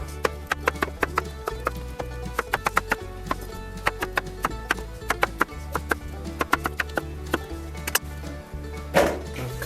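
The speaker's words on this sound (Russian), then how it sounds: "И картофель нарезаем тоже кружочками," Potato is sliced into rounds about a centimetre thick with a knife on a board for an oven-baked chicken and vegetable dish, giving many crisp close knocks in an irregular steady rhythm with a short scrape near the end.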